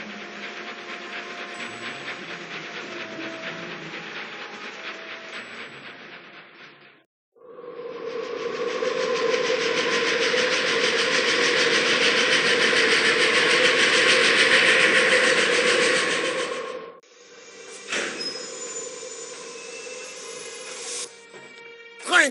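A rumbling, rattling passenger train rolls steadily along in an Agatha Christie Orient Express video game, loud and continuous with a brief drop in the middle, then clacking and knocking near the end.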